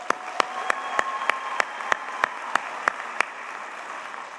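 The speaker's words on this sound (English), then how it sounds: "One more round of applause for Michael Frank." Applause from an awards ceremony crowd, a steady wash of clapping with several sharp, louder claps standing out at regular intervals.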